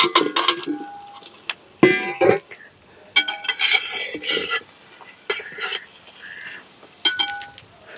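Lemons are stirred in a little hot oil in an uruli pan, with loud irregular scrapes and metallic clinks of a spoon against the pan and only a faint sizzle beneath.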